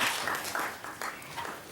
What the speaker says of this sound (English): limit your applause and any outside noise